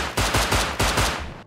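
Rapid bursts of gunfire crackle close and loud, two quick volleys of several shots each, ending abruptly.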